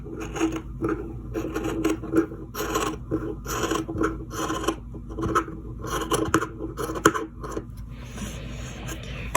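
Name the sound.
scissors cutting through a sock at the heel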